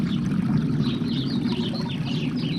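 Water pouring and trickling out of an Intex Ultra XTR pool frame tube as it is tilted, a steady close gush with bubbling splashes.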